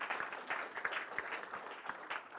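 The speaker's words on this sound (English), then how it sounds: "Yes, applaud." An audience at a seminar on tall timber high-rise buildings applauds, a dense, continuous patter of many hands clapping throughout the short stretch.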